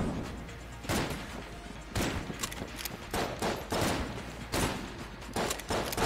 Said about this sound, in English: I shoot too fast for your little dodges, little man.